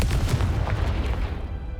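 Spell blasts from Confringo in Hogwarts Legacy, dense booming bursts with low rumble stacking up over a steady background, loud and continuous without gaps.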